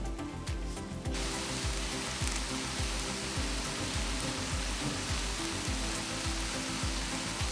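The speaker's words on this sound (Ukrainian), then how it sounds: "весь на все про все у нас процес смаження зайняв десь хвилин 10 з двох сторін" Potato sticks frying in a pan, giving a steady, dense crackle and sizzle that runs without a break and is fairly close, with no voices over it.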